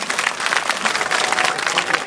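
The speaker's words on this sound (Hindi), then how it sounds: "मैं चाहती हूँ एक बार जोरदार तालियां आपके लिए।" Dense, steady applause from a large audience at an Urdu poetry mushaira in Govandi, continuous clapping filling the hall without a break, loud and close.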